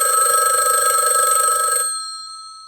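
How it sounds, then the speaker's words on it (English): A telephone bell rings loudly in a steady trill close by, then stops and its tone fades away, with no voices. "the phone rang."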